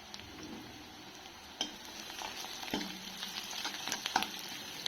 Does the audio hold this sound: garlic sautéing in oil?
yes